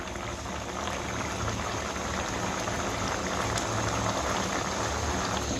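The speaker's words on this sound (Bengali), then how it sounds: "ডালটা আমি 5 থেকে 7 মিনিট ফুটিয়ে নেব।" Chana dal sweetened with sugar bubbles in a pot on the stove, giving a constant, close, dense hiss of boiling liquid. The sound is steady throughout, with no one talking.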